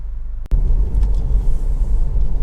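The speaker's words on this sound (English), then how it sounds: "this is a quick road test video, and this is for a Honda CR-V 2-litre EX automatic" A Honda CR-V 2.0 i-VTEC EX automatic driving on the road, with a steady low engine and road rumble throughout and a brief sharp knock near the start. No one speaks.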